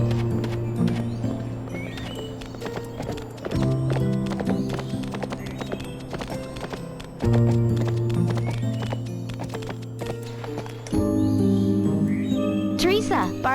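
Horse sounds from the Barbie Horse Adventures video game, with a foal on a forest trail: steady clip-clopping hooves, whinnies and jingling over looping game music, with birdsong and a voice speaking at times.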